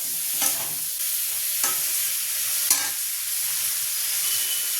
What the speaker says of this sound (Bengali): দিয়ে আমি এবার পটলটাকে এরকমভাবে নাড়াবো